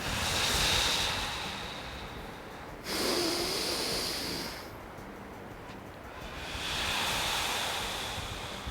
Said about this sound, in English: Inhale deeply and exhale